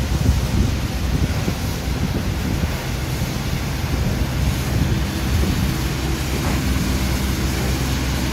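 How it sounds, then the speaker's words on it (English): Strong wind gusting through midtown Manhattan streets during a New York City blizzard, a steady, loud roar buffeting the microphone with no letup for the whole stretch. "looks like the wind died down a little bit"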